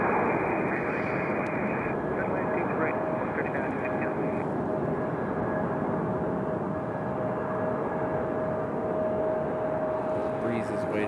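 An American Airlines Airbus A319 airliner at Raleigh-Durham International Airport gives off a steady, loud engine roar that holds evenly throughout, with a faint high whine running beneath the broad rumble.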